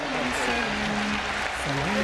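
Steady applause from a large crowd welcoming a speaker at his first address in Pakistan, held at a governor's house, continues throughout while a voice speaks or chants over it.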